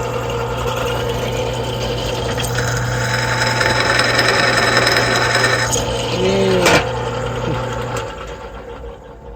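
A power drill bores a pilot hole into a metal ebike motor part, a loud steady whirring drone with grinding overtones that rises in the middle and then winds down and stops near the end.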